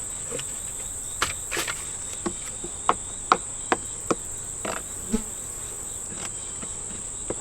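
Honey bees buzz in an open hive, a steady high drone holding throughout with scattered soft clicks and knocks of the hive tool and frames, close by and with no talking.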